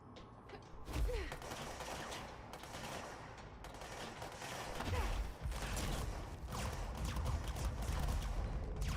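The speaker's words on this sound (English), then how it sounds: "Stop shooting at me." Enemy gunfire in the video game Control, dense and continuous with scattered louder bursts and debris-like thumps over roughly nine seconds, fairly close and busy throughout.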